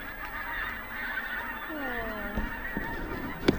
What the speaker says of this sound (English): Oh, I hear geese again. Oh wow, there's so many of them.